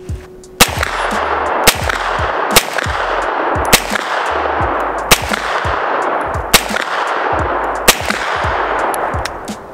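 A CZ Scorpion Evo 3 S1 fitted with a red dot sight fires about seven loud, close single shots spaced roughly a second apart, each crack followed by an echoing tail outdoors.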